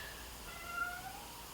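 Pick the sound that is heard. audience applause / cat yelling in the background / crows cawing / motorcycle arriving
cat yelling in the background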